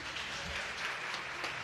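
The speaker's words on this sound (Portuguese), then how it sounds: "Salva de palmas para essa família linda." Congregation applauding a family during a church service, soft, fairly distant clapping that stays low and even for a short stretch.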